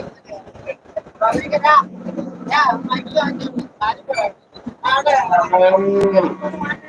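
Several cattle moo loudly and repeatedly, long drawn-out lows close by, with people talking in the background of a busy outdoor dairy cattle market in Melapalayam.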